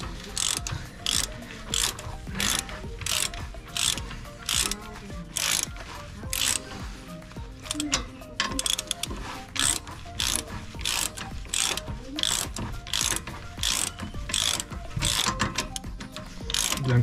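Ratchet wrench at work during a drive shaft change on a VW Touran, a loud, steady run of rapid clicking strokes repeating throughout without pause.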